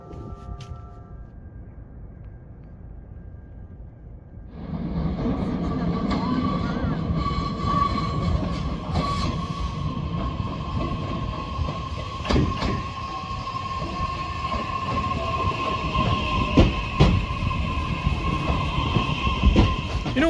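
A train pulls into Umi-Shibaura Station in Japan, a low rumble swelling in after a quiet start, then a sustained close roar with rail clatter and a faint squeal.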